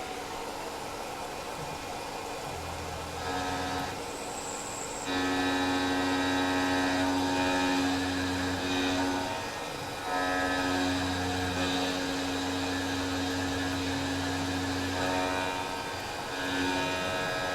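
A Tormach PCNC 1100 CNC mill cuts a part at 5140 RPM and 30 inches per minute, its steady whining spindle and cutting tone shifting in level between passes, with no talk.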